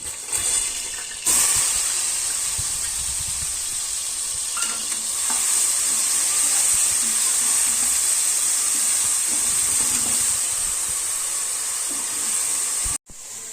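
Ginger, garlic and green chili paste sizzles steadily in a hot pan while cooking ghee rice, a bright continuous hiss with occasional stirring scrapes, loud and close, cutting off briefly near the end.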